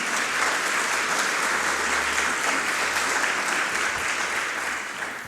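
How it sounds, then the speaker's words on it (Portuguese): Loud, sustained applause from a large church congregation, steady and dense throughout with no break. "aplauda bem forte o nome de Jesus"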